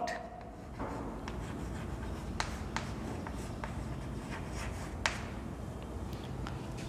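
Chalk or a marker writes a word on a classroom board, giving faint scratchy strokes and light taps over a steady room hum.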